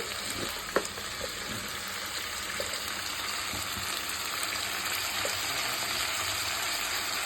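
Tomatoes frying and being stirred in a pan for Chennai sambar, a loud, continuous close-up sizzle with occasional light stirring clicks.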